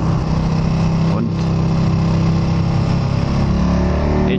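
A motorcycle ridden along a winding road, with a loud, steady engine drone and wind rush throughout.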